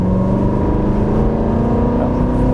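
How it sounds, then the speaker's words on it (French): A loud Aston Martin Vantage V8 engine drones steadily and close, a sustained revving roar with rich low harmonics and no pauses. "on va faire chanter le moteur."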